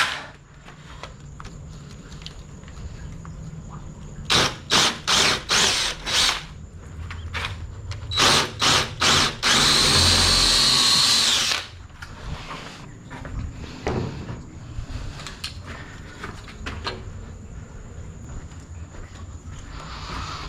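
A regular drill with a 3/8 bit drills into a concrete wall: a series of short close bursts of whirring, then a loud sustained grind lasting about three seconds, followed by quieter handling sounds.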